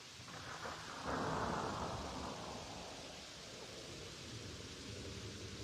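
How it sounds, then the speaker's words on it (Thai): Steady rain pours down as a storm approaches outdoors, a broad continuous hiss with a low rumble swelling early on and then easing, with no talk. "ฝนกำลังตกแล้วอ่ะ"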